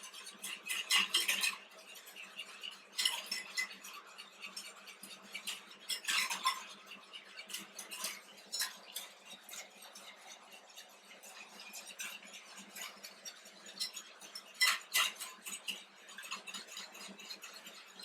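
Butter browning in a pot for financiers, stirred with a utensil, giving soft bursts of bubbling and scraping over a quiet background, close and fairly faint, no talking.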